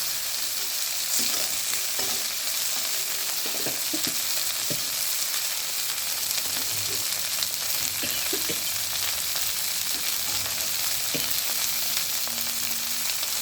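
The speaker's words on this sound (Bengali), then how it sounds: "পাট শাকটা রসুন, কালো জিরে আর শুকনো লঙ্কা দিয়ে কীরকম ভাজা ভাজা হচ্ছে।" Jute leaves fry in hot oil with garlic, black cumin and dry chilli, a steady close sizzle with scattered pops and occasional scrapes of stirring throughout.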